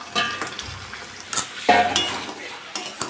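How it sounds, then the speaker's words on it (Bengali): Chicken pieces go into a pan of sizzling gravy, with several bursts of hissing and clattering from pieces dropping and a utensil scraping, spaced irregularly between quieter stretches of simmering, no voices. "আমি এবার মাংসগুলো দিয়ে দেবো।"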